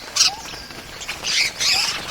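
A falcon gives sharp, harsh squawks while chasing a dove, with several short raspy bursts near the start and then longer strained calls, fairly close and alone with no talk.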